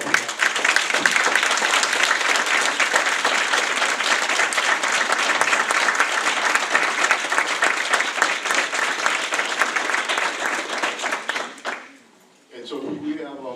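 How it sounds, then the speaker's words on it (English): A school board meeting audience applauds students who have earned associate's degrees before their high school diplomas. The clapping is loud, dense and steady for about eleven seconds, then it stops abruptly and the room falls quiet. "So, let's give a round of applause."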